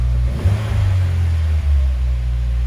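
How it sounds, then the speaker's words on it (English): A Subaru with an HKS exhaust burbles with a deep, steady rumble close by, a brief rev near the start before settling into an even idle. "And then it's got a little Subi rumble in the back there."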